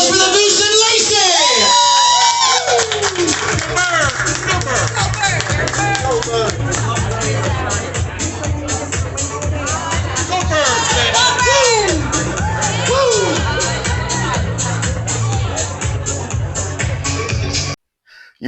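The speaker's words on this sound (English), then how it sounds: "Big round of applause for the Moose and Lacey" Crowd at a wing eating contest in Philadelphia cheering and whooping with a dense, loud roar of voices and scattered applause throughout, mixed with shouting.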